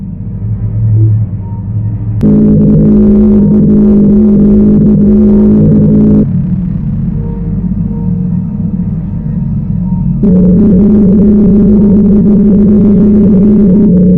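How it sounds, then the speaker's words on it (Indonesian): Eerie, droning low hum with layered tonal bands that shift in pitch and swell in sections, a sped-up recording of an Antarctic ice shelf singing, steady and loud. "Suara yang dikeluarkan dari rekaman tersebut berupa nyanyian lempengan es yang mengerikan"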